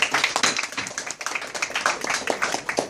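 A small crowd claps for an Epic Records A&R representative at a music industry event, giving brief, close, loosely rhythmic hand claps with no talking over them.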